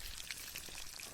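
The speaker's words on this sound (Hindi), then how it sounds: "तल रहा है मछली को" Fish fries in hot oil outdoors at a picnic, held in a wire mesh grill, giving a continuous soft sizzle and scattered crackle under overcast skies.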